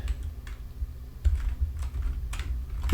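Keyboard typing at a computer while building a tycoon game in Roblox Studio, a few light, scattered key clicks in short bursts over a low steady hum, close and fairly quiet.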